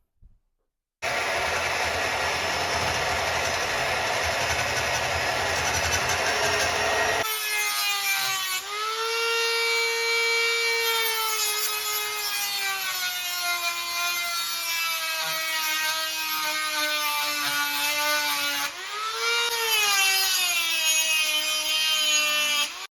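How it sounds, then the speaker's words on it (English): A drill bores into a homemade welded saddlebag bracket on a 1989 Harley-Davidson Evo Electra Glide, giving a loud, steady whine that starts abruptly, runs continuously for about twenty seconds and dips in pitch briefly as the bit bites, with no talking. "I think we can get it drilled."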